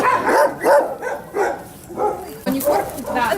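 Dogs at a shelter for homeless animals bark and yip in repeated close bursts, several in a row with short gaps, with some whimpering among them.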